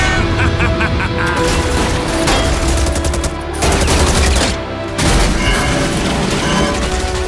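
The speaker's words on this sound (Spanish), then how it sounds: "¡Cohetes listos! ¡Disparen!" Rockets and rapid gunfire blast through an animated Overwatch battle, dense loud volleys and booms with short gaps, and shouting voices mixed in.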